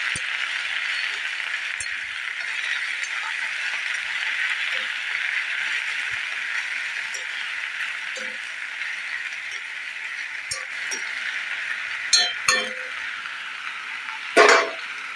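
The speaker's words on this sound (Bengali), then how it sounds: "শাকগুলোকে একটু ভালো করে নাড়িয়ে দেবো।" Ghatkol greens being stirred in a pan after frying: a steady, soft sizzle runs throughout, with scattered scrapes and clinks of a utensil growing louder toward the end, no talk.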